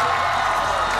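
A large audience at a street dance competition show applauds and cheers to welcome five professional judges, a dense, loud wall of clapping and crowd noise throughout.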